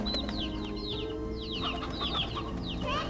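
Chickens clucking with a rooster among them in the video game Slime Rancher 2, a steady run of chirpy clucks and calls over a dense, constant game background.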